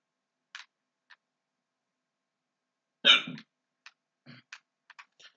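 A person hiccups during a Star Wars: Battlefront II gaming session: a few short, sharp bursts spread through an otherwise quiet stretch, with one louder, fuller catch near the middle and smaller clipped ones after it.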